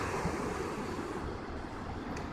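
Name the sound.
ocean waves breaking at Isle of Palms Beach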